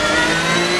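Porsche race cars surging away at the start of an hour-long race at Paul Ricard, a dense, loud layered engine roar with multiple revving tones sustained throughout.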